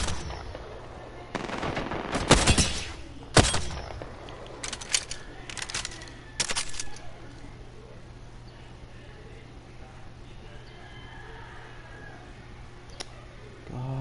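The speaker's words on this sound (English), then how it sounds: "Opening fire." Video game gunfire in Apex Legends: a couple of sharp bursts of automatic shots close together early on, then scattered clicks and quieter reports fading into ambient background, no talking.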